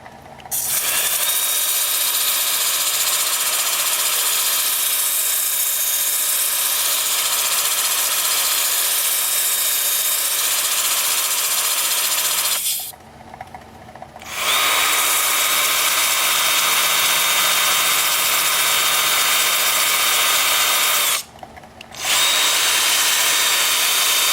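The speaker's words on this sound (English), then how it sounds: "The lathe is spinning in reverse at 250." A wood lathe turning a maple slab spins in reverse at 250 rpm, giving a loud, steady broadband whir close by, broken by two short pauses where the sound drops away before resuming.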